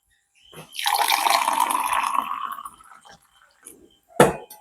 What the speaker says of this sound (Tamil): அதுக்குள்ளே நான் சர்பத்தை ஊற்றி கொள்கிறேன்